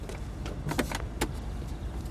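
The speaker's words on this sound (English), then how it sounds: "This leads to a low-speed car chase with low-stakes shenanigans." A car in a low-speed chase scene from an office comedy, heard as a steady engine and road rumble with a few brief mechanical clicks and thumps rising above it.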